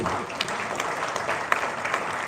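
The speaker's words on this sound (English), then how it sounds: "Let's give them a round of applause." A conference audience applauds panelists at a family business event, steady clapping filling the room for a couple of seconds with a few sharper individual claps standing out.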